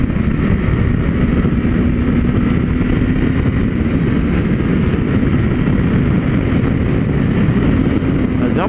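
A Honda CB1000R motorcycle drones steadily while being ridden on a rough, worn road, a loud, constant engine roar with wind rush and no breaks across the whole stretch.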